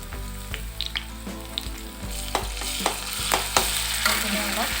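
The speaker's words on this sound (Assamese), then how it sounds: "কম জুইত ভাজি" Ginger and garlic frying on a low flame for a drumstick curry, a steady close sizzle with repeated sharp clicks and scrapes of a spoon stirring against the pan.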